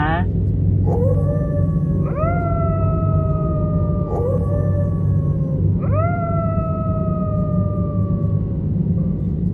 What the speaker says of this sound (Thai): เหลือเพียงเสียงเห่าหอนของหมา